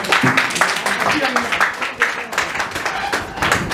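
Audience applause at a felicitation ceremony and book event, steady crowd clapping in a hall with voices talking over it.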